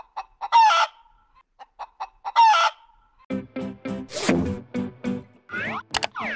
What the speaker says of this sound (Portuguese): Vamos ouvir o som que a galinha faz.